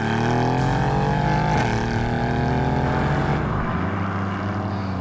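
Mercedes-AMG GLC 63 S V8 in its loudest drive mode, a deep, throbbing exhaust note revving up and down close by, with harmonic-rich tones climbing and dipping through gear changes, loud and continuous with no talk.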